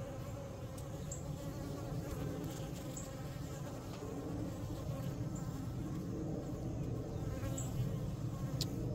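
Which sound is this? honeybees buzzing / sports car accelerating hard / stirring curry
honeybees buzzing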